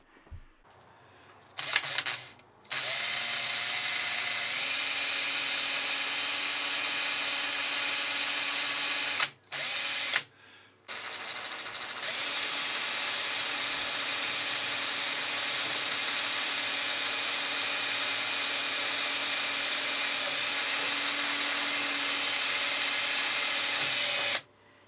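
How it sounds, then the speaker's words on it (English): A lathe's tool post spindle cross drills a hole through a machined edge-finding probe, giving a steady high-pitched drilling whine that runs nearly continuously, broken by a few short pauses and some clicks near the start. "now I've set up the tool post spindle to do a cross drill"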